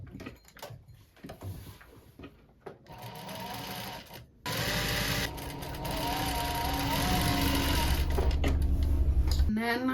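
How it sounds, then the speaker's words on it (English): A sewing machine stitches down the corner of a rolltop rucksack, starting with scattered handling noises and then running in a loud, steady mechanical whir that continues through the second half. "Sew that bit down as well."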